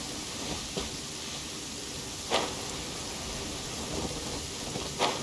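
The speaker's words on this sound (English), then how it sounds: "Rain! I hate rain." Steady rain with rolling thunder in the Genshin Impact game, set in Liyue, a constant hiss of rainfall broken by a few brief thunder cracks, with no talking.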